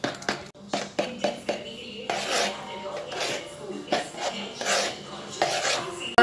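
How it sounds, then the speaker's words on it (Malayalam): Flour being mixed by hand into marble cake batter in a bowl, with repeated scraping and rasping strokes against the sides and short clinks of a utensil, steady and close. "മൈദ നമ്മൾ കുറേശ്ശെ ചേർത്ത് മിക്സ് ചെയ്യണം"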